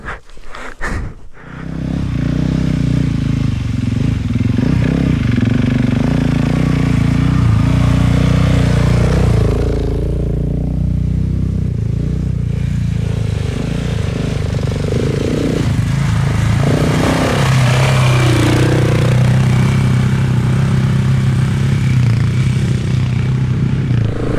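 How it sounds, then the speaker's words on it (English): Motorcycles riding through sand on an afternoon trail ride at Cape Melville, Cape York, a loud continuous engine drone rising and falling with throttle, close and steady for the whole stretch. "Back on the bikes for a late afternoon ride in the sand."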